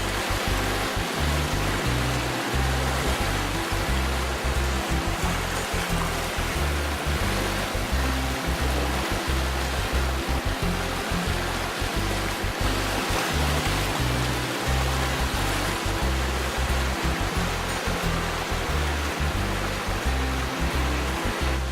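Steady, dense rush of a river flowing under a bridge on the Chilkoot Trail, constant and fairly loud throughout with no voices.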